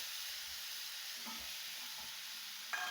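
Onion and soaked masoor lentils being roasted in a pan give a faint steady sizzle, broken by a few soft stirring scrapes and a brief clatter near the end, with no voices.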